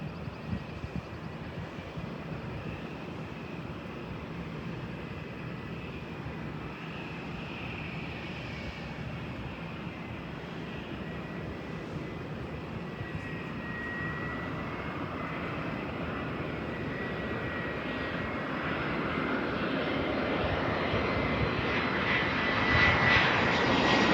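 An Air China Airbus A319 takes off, its jet engine roar holding steady and then swelling as the plane climbs, loud and continuous with no talk over it.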